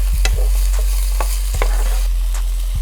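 Mushrooms, peas and garlic stir-fried in a pan for mushroom and pea fried rice, with a steady low sizzle under repeated sharp spatula scrapes and knocks against the pan, close and fairly loud.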